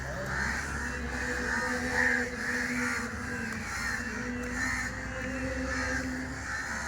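Many crows caw in repeated harsh bursts, overlapping one another at a moderate distance, with a low background hum underneath.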